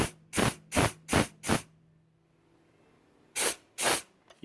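Compressed air at about 50 psi hisses into the stuck, rusted wastegate of a CAT C12 engine on an Oshkosh MK23 MTVR 7-ton truck, in four quick loud bursts, a pause, then two more bursts.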